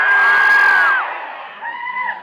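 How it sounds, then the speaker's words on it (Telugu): A large crowd at the Eagle movie trailer launch event, starring Ravi Teja, screams and shouts loudly, with a piercing sustained shriek fading into scattered whoops. "అరుపులు కేకలు గోల వన్స్ మోర్."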